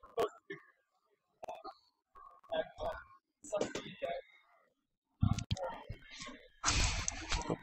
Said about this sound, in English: shuffle, shuffle, shuffle, shuffle, shuffle.